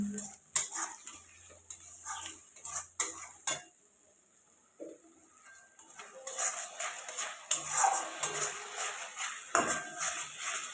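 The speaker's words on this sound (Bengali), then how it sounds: "পেস্টটা দিয়ে এখন একটু ভালো করে কষিয়ে নিতে হবে মশলাটা" Ginger-garlic paste masala stirred and fried in a pan for a Bengali crab dish, with close scraping and clinking of the utensil against the pan and a light sizzle, pausing briefly midway before busier stirring resumes.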